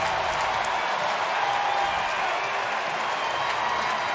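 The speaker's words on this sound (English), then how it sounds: "And listen to this crowd." Roaring crowd at a baseball stadium after a Giants home run on the last day of the season against the Padres, a steady, dense wall of cheering and applause that holds loud throughout.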